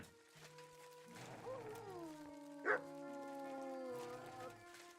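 A dog named Mutz in Kingdom Come Deliverance 2, heard in short yips and whining bark-like calls over a steady tonal game music bed, fairly faint, with a brief louder bark in the middle.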